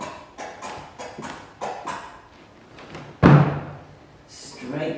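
Horse hooves clip-clop in an uneven rhythm as a horse and cart arrive in a theatre drama's sound effect, followed by a heavy thud, with a narrator's voice running over the top.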